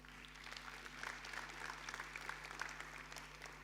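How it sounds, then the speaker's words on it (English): An audience at a startup conference breaks into a steady round of applause, with dense overlapping claps sustained throughout at moderate distance and no clear speech on top. "we should all give him a round of applause."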